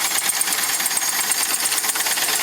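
Wilesco D457 vertical toy steam engine running on a ceramic gas burner and driving an M56 model workshop, giving a faint, steady hiss with light rapid mechanical chatter throughout.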